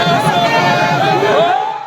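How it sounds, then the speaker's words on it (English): Excited PDP supporters crowd an airport to welcome a state governor, a dense wall of cheering, whooping and shouting voices close by, steady and loud throughout. "The governor was welcomed by a crowd of excited supporters at the airport."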